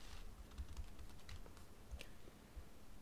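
Typing on a computer keyboard while entering numbers into an HTML table, a quiet run of irregular close key clicks with a few louder taps and no talk.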